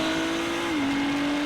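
The twin-turbo V6 EcoBoost racing engine of a Ford GT race car drones in a steady, loud, even tone that dips slightly in pitch partway through, with no voices over it.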